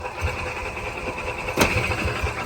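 A gas golf cart engine cranks and catches, settling into a steady running hum with low rhythmic thumps and one sharp burst partway through; no one speaks.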